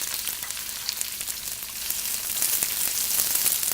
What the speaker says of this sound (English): I'm heating up some cooking oil, and I'm going to put in finely sliced medium brown onion to saute